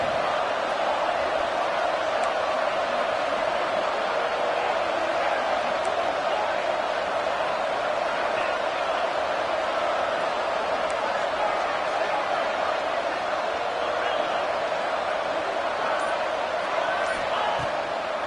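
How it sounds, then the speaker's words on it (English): A roaring college football stadium crowd at a Boise State game in a video game, a steady, dense wall of noise holding constant and loud the whole time, with no distinct breaks. "This Boise State crowd bringing the noise. It's deafening here on third down."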